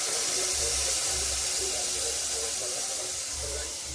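Chopped vegetables dropped into hot tempering oil sizzle with a steady, dense hiss that stays loud and continuous throughout, with faint talk underneath.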